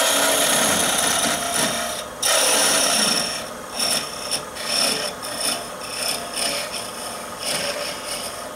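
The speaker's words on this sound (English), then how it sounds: "And I'll cut my tenon." A wooden tenon being cut on a small spike-star Christmas ornament, giving a continuous bright rasping, scraping whine with brief pauses and shifts in intensity, close and fairly loud with no voices.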